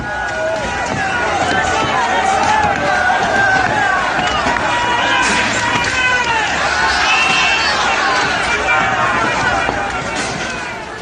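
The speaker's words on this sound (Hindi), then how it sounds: "वहीं मौजूद सैकड़ों की भीड़ शोर से उनका उत्साह बढ़ा रही है" A crowd of hundreds roars and shouts continuously at a temple where people swing hammers and shovels, a dense, loud babble of voices filling the whole stretch without pause.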